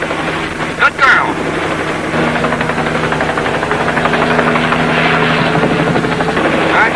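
Helicopter flying steadily with throttle and collective being adjusted, a loud continuous rotor and engine drone with a brief bump near the start, holding level throughout.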